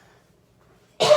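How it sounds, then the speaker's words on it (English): A single sharp cough bursts out at the very end after near silence, loud and close, from someone cutting up jalapeños while cooking chicken tortilla soup. "I have to cough."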